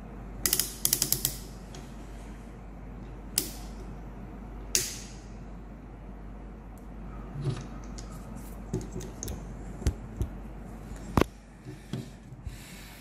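A ratchet wrench from a handyman's tool kit clicks as it tightens, with short bursts of sharp metallic ratcheting and scattered single clicks, close and clear over a faint low hum.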